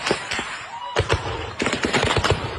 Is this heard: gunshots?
yes